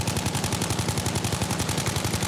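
Rapid automatic gunfire from the video game Battlefield, a steady stream of closely spaced shots that fills the whole stretch, loud and continuous with no talking.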